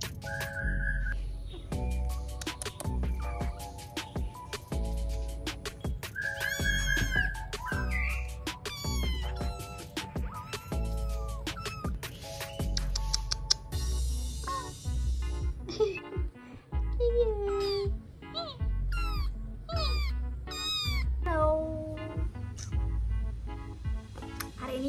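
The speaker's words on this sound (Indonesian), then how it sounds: "Ini kucing liar gitu sih, tapi dibawa induknya ke rumah aku." A stray kitten meows repeatedly in short, high calls scattered over a busy background of music and whistling-like tones, close and clear.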